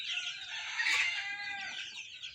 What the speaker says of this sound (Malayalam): ഇത്തരത്തിലുള്ള ഒരു സോനാലി കോഴികളാണ്. ഫയോമി നാടൻ മിക്സ്ഡായിട്ടുള്ള കോഴികളാണ്.